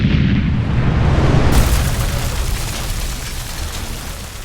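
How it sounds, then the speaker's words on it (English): A pressurized RV water heater plug blows out with a single loud, close explosive boom, followed by a rushing roar that slowly fades. "Tony just got his head blown off because he didn't depressurize his water heater before he tried to take out his anode rod"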